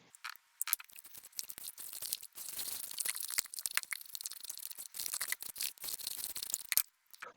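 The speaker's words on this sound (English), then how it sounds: "Next, we're going to add the egg and the vanilla and beat till incorporated." Egg and vanilla are beaten into chocolate chip cookie dough, giving close, crackly, irregular scraping and crunching strokes that pause briefly near the start and again near the end.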